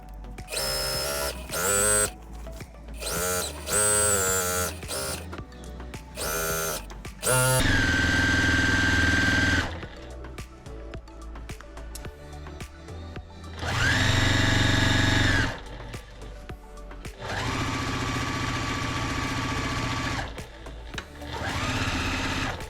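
A sewing machine stitching a quilt runs in several bursts, first short rapid starts and stops, then three longer steady whirring runs of a few seconds each, loud and close with quiet pauses between.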